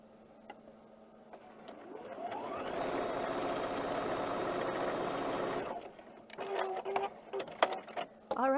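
Sewing machine stitching quilt block pieces into four-patch units for a scrappy churn dash variation quilt, a steady loud whirring run of about three seconds rising up to speed and cutting off, with handling clatter before and after.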